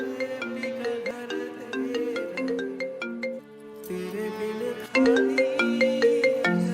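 Mobile phone ringtone from a mother's incoming call: a loud, bright melodic tune of quick repeating notes that dips for a moment, then starts again at full volume, with no talk over it.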